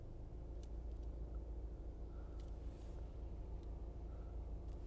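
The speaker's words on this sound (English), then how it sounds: "just watching that camper van" A camper van rumbling past, heavy low engine and road noise held steady and fairly close, with faint higher clicks over the drone.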